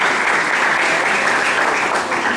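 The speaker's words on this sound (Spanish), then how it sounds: "un aplauso para Alejandro, por favor" Loud, dense applause from an audience at a business presentation, with many hands clapping in a steady, unbroken roar from start to finish.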